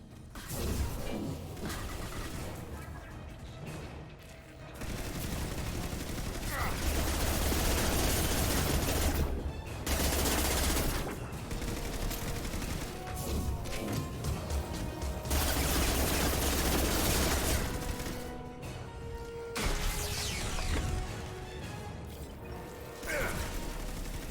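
Rapid bursts of video game shotgun fire and mechanical clatter, loud and dense, repeating in heavy volleys with brief gaps over about twenty-four seconds of combat.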